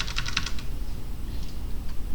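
Left and right arrow keys on a computer keyboard pressed alternately, a quick burst of about six crisp clicks, then a few fainter taps, close and with no talking.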